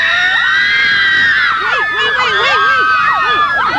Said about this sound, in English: Are you screaming for Skid Row?